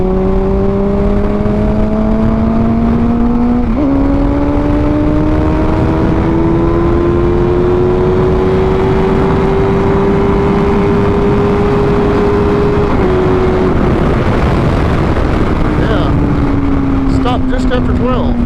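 A motorcycle engine revs hard and high and holds a loud, steady whine for many seconds, rising, dipping briefly, then falling away near the end, with no talk over it.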